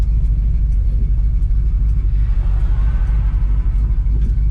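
A pickup truck cruising at highway speed around 70 mph in its highway gear, a loud, steady low engine rumble with constant road noise and no talking.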